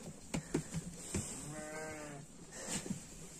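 A sheep bleats once in a barn, a mid-length wavering call close by, surrounded by light shuffling and soft knocks from other livestock; no talking.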